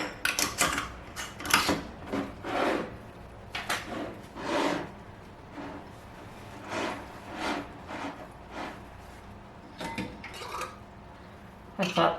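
Metal canning jar lids and rings clink and rattle in irregular bursts at close range while being sorted for spiced pears, with short pauses between handlings.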